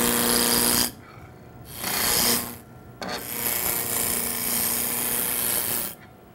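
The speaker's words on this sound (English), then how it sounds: "Use a spindle roughing gouge and work from the pommel towards the tailstock." A wood spindle spins on a lathe while a spindle roughing gouge cuts from the pommel toward the tailstock, giving bursts of loud raspy scraping separated by brief pauses.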